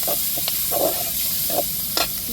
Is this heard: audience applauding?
no